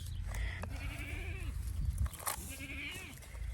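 Goat bleating on a village farm, several wavering cries one after another, close and clear over low background rumble.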